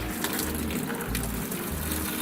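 Water gushes steadily out of the hose of a Samsung top-loading washing machine (WAxxxW9, WP, G9, GP series). The flow is loud and close, with a low pulsing hum beneath it.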